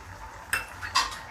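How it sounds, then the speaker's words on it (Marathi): A spoon stirs a pot of chickpea curry with two light metallic clinks against the rim over a faint background hum, close and brief with no speech. "आणि भाजी आपण चांगली हलवून घेऊया मिक्स करूया"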